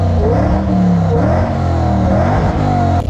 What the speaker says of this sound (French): le bruit du compresseur, c'est magique